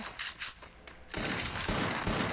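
Gunfire in a shooting video game: a few sharp, quick shots at first, then a dense, sustained burst of rapid fire that carries on to the end.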